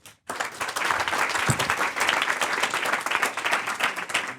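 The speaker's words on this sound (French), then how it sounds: "Allez, on applaudit encore." Audience applause breaks out at a live startup pitch event in France, a dense, steady clapping from a crowd that starts abruptly after a brief pause and continues loudly without letting up.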